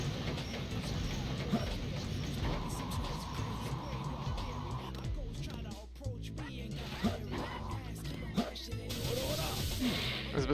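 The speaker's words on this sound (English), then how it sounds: "Wow, really loud train." A loud train in the video game Sonic Adventure 2: Battle rumbles with clattering, rhythmic mechanical noise and crashing bursts, mixed with game music and effects throughout.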